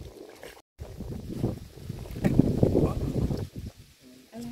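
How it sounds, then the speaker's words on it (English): A motorboat rides across a lake in Mäntyharju, Finland, giving a rumbling engine and water wash with wind buffeting the microphone. The sound rises and falls, louder in the middle. "Sailing in motorboat, baby Nat Nat."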